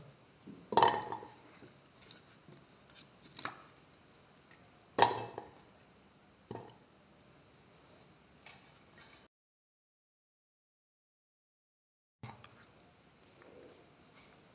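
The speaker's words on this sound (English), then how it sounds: "Now put in the potatoes into the cooker." Chunks of potato tumble into a cooker already holding shallots for a mashed potato and ground coconut stew: a few sharp, hollow clatters spaced a second or two apart, fairly quiet, followed by a gap of silence.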